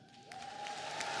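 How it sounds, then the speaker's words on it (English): Applause from a graduation convocation audience, heard quietly and briefly, with a dense crowd texture that builds slightly over its short length while a steady tone hums beneath it. "there was going to be a moment for truly thunderous applause"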